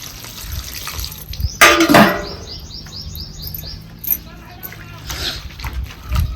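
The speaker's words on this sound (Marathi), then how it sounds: "परत आता दुसऱ्या पाण्याने आपण धुणार आहे." Safflower leaves are washed by hand in a second change of water, giving soft splashes and drips with one louder slosh early on, while birds chirp and tweet nearby outdoors.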